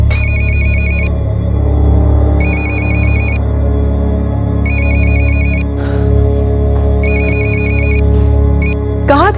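A telephone rings in repeated electronic bursts with pauses between them, loud and close over a steady backdrop of music.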